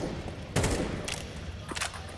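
Pistol gunfire crackles in a Counter-Strike 2 match at the PGL Copenhagen 2024 Major, a few quick pops over dense, continuous game noise.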